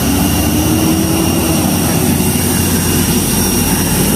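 An airplane at a Manila airport gives a steady, loud engine drone with a constant whine, continuous throughout and heard up close without any talk.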